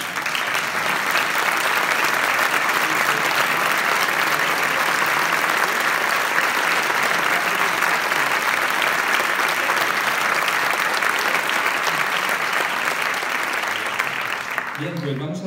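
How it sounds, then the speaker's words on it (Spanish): A theatre audience applauding the composer, a dense sustained ovation of many hands lasting throughout and fading only at the very end, loud and full. "y le vamos a dar un aplauso."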